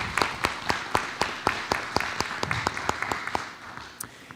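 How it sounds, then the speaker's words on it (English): A school board meeting audience claps for Dr. Williams, a light, steady spatter of separate hand claps from a modest crowd that thins toward the end. "give Dr. Williams a round of applause"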